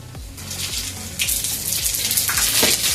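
Mustard seeds hit hot oil in a kadai while kovakkai fry is being cooked, giving a broad steady sizzle with popping crackles and low thumps near the mic, no talk.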